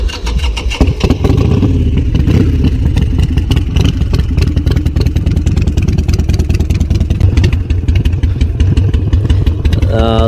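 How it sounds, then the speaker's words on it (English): A Harley-Davidson motorcycle with a custom ignition system and standard carburetor starts up close by and settles into a loud, steady, lumpy idle with a rapid pulsing beat throughout. "So we're gonna start the motorcycle."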